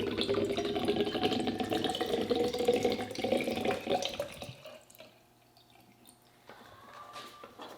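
Varnish pours into a container in a continuous liquid stream for several seconds, then stops, leaving faint drips and a quiet room.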